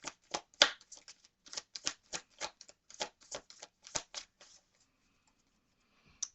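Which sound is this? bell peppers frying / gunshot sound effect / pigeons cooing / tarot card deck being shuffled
tarot card deck being shuffled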